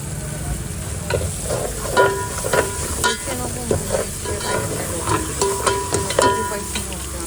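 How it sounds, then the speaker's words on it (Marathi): Chopped coriander fries in a pan with a steady sizzle while a spoon stirs and scrapes it in repeated close strokes. "आपण कोथिंबीर जरा असं फ्राय करूया थोडी, जेणेकरून कोथिंबीर पण शिजेल"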